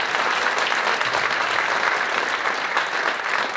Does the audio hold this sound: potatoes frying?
no